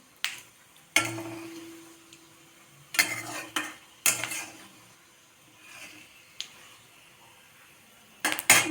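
Fennel seeds frying in oil as the base for a makhana gravy produce short, sharp crackling and popping bursts separated by quiet gaps, mixed with light clinks of a utensil against the pan.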